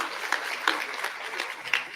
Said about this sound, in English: Can we have another round of applause for Cardinal Tobin?